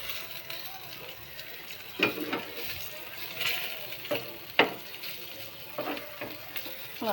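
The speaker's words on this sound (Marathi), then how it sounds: "मच्छी मस्त फ्राय होते बघा. एकदम अशी कडक कडक फ्राय करूया." Rawas fish coated in jowar flour fries crisp in a pan: a moderate, continuous sizzle broken by several brief crackling spatter bursts.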